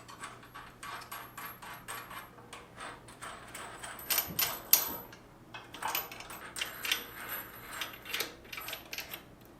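Small metal parts clink and rattle as washers, a lock washer and a nut are fitted onto an industrial sewing machine servo motor, irregular close taps and jingles over a low steady hum.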